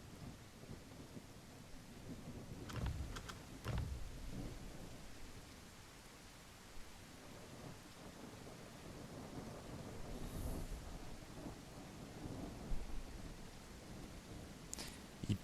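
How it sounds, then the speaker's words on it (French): Steady rain falls in the video game The Isle while low thunder rumbles and cracks a few times, distant and moderately loud, with no talking. "Il pleut."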